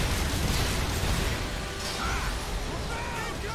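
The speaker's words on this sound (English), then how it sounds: "they got missiles coming after me" Missiles exploding in Earth Defense Force 5, a dense wash of blasts and popping debris rumbling continuously and loudly with no clear pauses.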